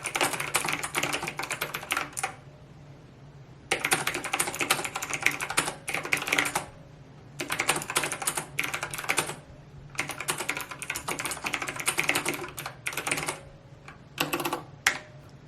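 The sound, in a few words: typing on a clicky, springy iPad keyboard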